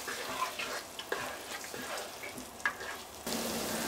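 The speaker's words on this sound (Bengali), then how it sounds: "এবার মশলাটাকে কষিয়ে নিব।" Spice paste for Bangladeshi-style beef bhuna sautés in a pan, with a soft, steady sizzle broken by occasional stirring scrapes, and the frying swells louder near the end.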